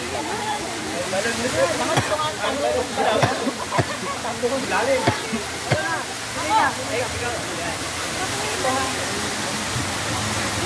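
Steady rushing water of Bantakay Falls in Quezon Province roars throughout, a broad continuous wash with faint voices and occasional knocks mixed in beneath it.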